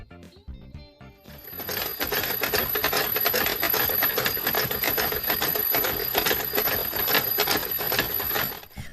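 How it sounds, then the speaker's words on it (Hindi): A slapping alarm clock sets off a loud, continuous metallic ringing after a brief quieter start. The clattering bell runs for several seconds before cutting off, with no voices. "इस अजीब चीज को स्लैपिंग अलार्म कहते हैं। एक ऐसा अलार्म जो आपको थप्पड़ मारकर जगाता है"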